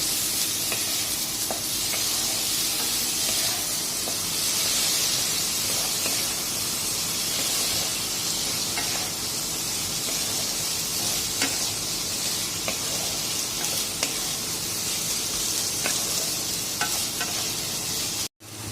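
Spice paste for a vegetarian banana flower curry with chickpeas and lentil dumplings sizzles steadily in a pan, with occasional scraping stirs and faint clicks over a constant frying hiss, ending abruptly.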